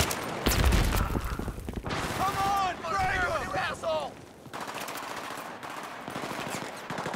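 Heavy automatic gunfire from allied soldiers in the Battlefield 3 mission Operation Guillotine: dense, overlapping bursts of rifle and machine-gun fire, close and loud, with a brief shouted voice partway through.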